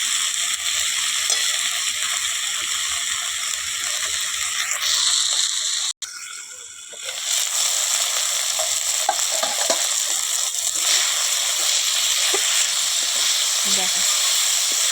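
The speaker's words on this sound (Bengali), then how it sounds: "আর একটু ভাজা করব, তারপরে নামিয়ে নেব।" Fenugreek greens and eggplant frying in a pan, a continuous bright sizzle and hiss with occasional stirring scrapes, close and steady, with a brief dropout partway through.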